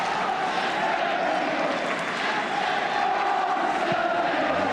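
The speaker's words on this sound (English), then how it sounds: "Bristol City fans beginning to shout and cheer a little louder" Football crowd at a 1976 Bristol City match, fans shouting and cheering in a steady, dense roar that swells slightly toward the end of a match.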